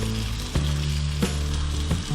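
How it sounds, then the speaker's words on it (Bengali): Chicken with masala and garam masala powder sizzles steadily in hot oil for a Mughlai chicken changezi, with a few sharper bursts as the pieces are stirred and turned. "চিকেনের সাথে খুব ভালোভাবে মশলাটা আর একবার কষিয়ে নিচ্ছি।"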